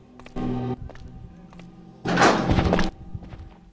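A door opening in Resident Evil Outbreak, heard as two heavy sustained mechanical rumbles, the second louder and rougher, with light thuds and footstep-like taps between them.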